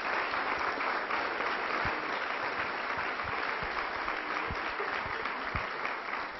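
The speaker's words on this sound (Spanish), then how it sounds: "Así que también un aplauso para Remo." A conference audience at a talk applauds Remo, a campaigner honoured for his struggle, with sustained, even clapping that fills the room throughout, a few sharper claps standing out.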